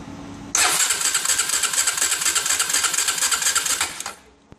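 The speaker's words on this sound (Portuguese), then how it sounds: "Vocês prestem atenção aqui para você ver como que a corrente está pulando aqui, ó. Vou girar o motor para vocês verem." A Honda Twister motorcycle engine with a worn, skipping timing chain kicks in suddenly and runs for about three and a half seconds. It gives off a loud, fast, rhythmic mechanical clatter, then cuts out abruptly.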